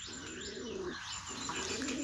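Pigeons cooing at a nest holding two eggs, with soft repeated coos and chirps close by, continuous over a steady background hum and no talking.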